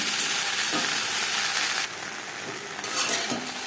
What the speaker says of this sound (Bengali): দু চামচ রিফাইন্ড অয়েল গরম করে নেওয়ার পর দিয়ে দেবো ভেন্ডি